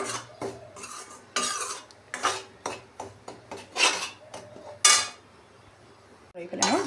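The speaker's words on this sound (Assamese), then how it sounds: "প্ৰায় 2 মিনিটমান সময় মই পিঠাগুড়িখিনি ভাজি ল'ম" Rice flour dry-roasting in a pan while a spoon stirs and scrapes it in short, uneven bursts, with brief quiet gaps between strokes, close and moderately loud.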